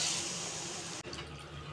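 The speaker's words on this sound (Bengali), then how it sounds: "এই অবস্থায় আমি এতে জল অ্যাড করব।" Water poured into a pan of Bengali katla fish curry with taro after the spices have released their oil, a soft continuous gushing pour that stops abruptly, heard alone and close.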